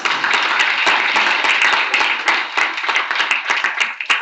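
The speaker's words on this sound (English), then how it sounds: "I request audience to give them a big round of applause" Loud, close applause from the audience at a college investiture ceremony after a student is named: brisk, dense clapping with distinct sharp hand strikes, continuous to the end.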